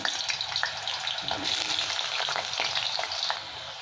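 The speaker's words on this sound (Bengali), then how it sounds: "তো আলুগুলো আগে ভেজে নিচ্ছি" Potatoes frying in hot oil, a loud, dense, continuous sizzle close by, with occasional stirring clicks and no talk over it.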